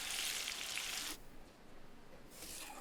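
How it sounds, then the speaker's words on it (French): Apple slices fry in butter with a steady bright sizzle that drops away for a moment, then swells back up as the pan is stirred. "Faites revenir les pommes dans le beurre."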